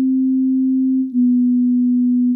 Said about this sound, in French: Mais néanmoins très utilisé dans beaucoup de synthés en synthèse sonore, on utilise les formes d'ondes sine.